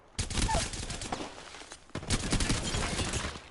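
Dense automatic gunfire from a video-game firefight bursts out loud and near, cuts off briefly, then rolls on again in rapid continuous volleys with faint game voice callouts mixed in.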